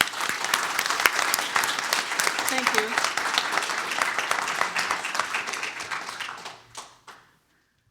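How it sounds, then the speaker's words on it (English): A round of applause from the audience at an annual general meeting, many hands clapping steadily for about six seconds before fading out quickly, with a brief spoken thanks during it. "So let's give them a round of applause."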